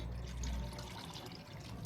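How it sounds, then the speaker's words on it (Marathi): Water pours into a large cooking pot for egg rice, a steady faint rush of liquid running without a break. "त्याच्यामध्ये मी साधारणतः दोन लोटे पाणी घालणार आहे"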